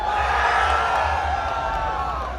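A large race crowd at the Road Atlanta Formula Drift event cheers and whoops with a steady, loud roar of voices that carries through the whole moment.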